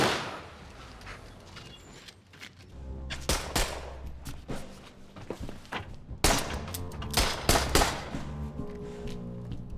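Gunfire from a killing scene in the film The Irishman: several sharp, loud bangs in irregular clusters over a low, sustained musical backdrop.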